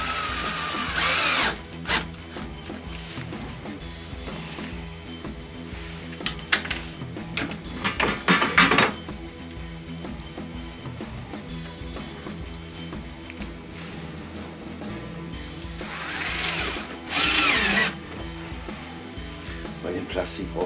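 Power drill driving short screws into plastic, without pre-drilling, in a workshop beside a Metabo TS 254 table saw: brief loud whirring bursts over a steady hum, with speech between them.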